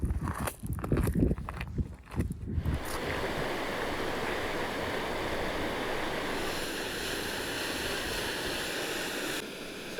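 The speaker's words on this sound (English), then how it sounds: "It's a waterfall with this really iconic mountain in the background." Kirkjufellsfoss waterfall on Iceland's Snaefellsnes peninsula, heard as a constant broad rush of falling water. Some wind buffeting and handling noise come first in the opening seconds.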